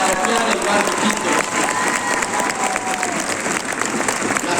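A crowd at a mayoral campaign rally in Quito claps in a loud, continuous burst, dense applause with some cheering mixed in, steady throughout.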